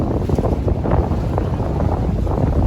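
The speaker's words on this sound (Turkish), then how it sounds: "Oh, çok güzel esiyor şu an arkadaşlar." Wind gusts across the Karşıyaka Bostanlı seaside in İzmir, buffeting the microphone with a loud, continuous low rumble and roar that never lets up, with no speech.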